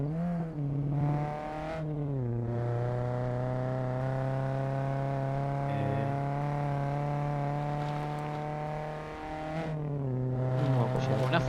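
A car engine roars while it is driven fast in a video game, a loud sustained harmonic drone that climbs and dips in pitch, with revving surges near the start and again toward the end.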